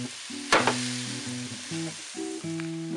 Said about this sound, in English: we'll cook this until the pepper is nice,